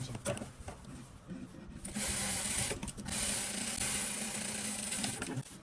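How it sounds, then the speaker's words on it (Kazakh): Sewing machine stitching a seam on a denim skirt, a steady close mechanical whirring and rattling that runs in sustained stretches with brief pauses, with a voice speaking intermittently over it. "енді мына жерін қайтып бастып тігіп қоямыз"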